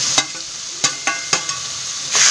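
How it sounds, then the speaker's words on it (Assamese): Fried pointed gourd and potato pieces are tipped into a hot pan and stirred, with several sharp spoon scrapes and knocks over a continuous bright sizzle, ending in a louder burst of frying. "এবার ইয়াত মই ভাজি থাক পটল আর আলুখিনি দি দিলো"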